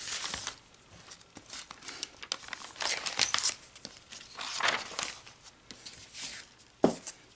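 A small booklet with a wrapping paper cover is handled up close, giving irregular bursts of crinkling and rustling paper with brief louder crackles and soft pauses, no talking over it.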